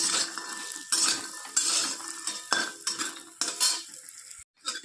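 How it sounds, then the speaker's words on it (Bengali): Frying sizzle of lentil dumplings browning in a pan, broken up by repeated metal utensil scrapes and clinks as they are stirred and turned. "বড়িগুলোকে একটু লাল লাল করে ভেজে নিতে হবে।"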